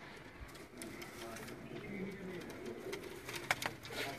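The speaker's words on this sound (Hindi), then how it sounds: "ये कबूतर ब्रीडर कबूतर हैं" Breeder pigeons, a cross of teddy and black-faced birds, give soft low coos that run steadily through the background, with faint chirps and a few sharper bird calls near the end; no voices are heard.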